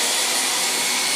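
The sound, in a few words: vacuum cleaner running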